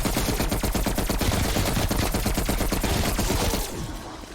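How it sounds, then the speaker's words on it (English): Sustained automatic gunfire from a pack-a-punched weapon in Black Ops Cold War Zombies, a dense rapid stream of loud shots that runs without pause before stopping abruptly, with no speech. "Once you start shooting, you don't have to take your finger off the trigger for a while."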